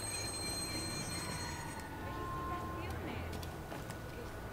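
A subway train in the Watch Dogs video game passes at moderate distance with a steady rumble and a thin wheel squeal, heard faintly over a continuous background.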